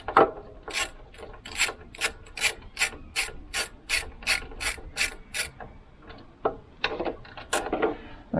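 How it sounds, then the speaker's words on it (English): A ratcheting spanner turns a 10mm bolt on a John Deere alternator, giving a run of quick, regular close clicks that gives way to a few slower, irregular ratchet strokes. "It's a bit of a hard work to get spanner onto it."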